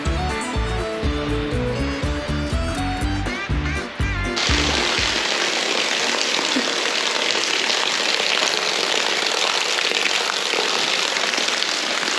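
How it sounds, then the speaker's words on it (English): A waterfall inside an abandoned tunnel gives a dense, steady rushing roar that starts abruptly after a few seconds of music and then continues evenly and loudly to the end. "A waterfall."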